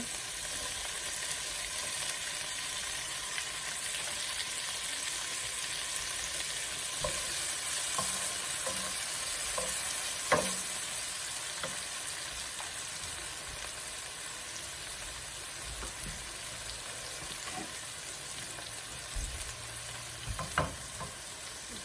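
Tomatoes and garlic sizzle steadily in a pan for noodles, a continuous frying hiss with occasional stirring scrapes and clinks, close and fairly quiet with no talking.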